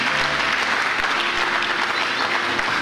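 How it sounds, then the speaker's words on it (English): A church congregation claps together in a dense, continuous burst of applause during a sermon, loud and close, with a few stronger accented beats. "If you want to clap, you better clap."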